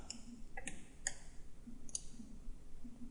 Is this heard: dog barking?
no